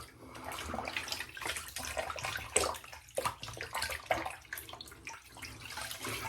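Running water from a tap splashes and gurgles as a straight razor and a freshly shaved face are rinsed, a continuous close wash broken by uneven splashes.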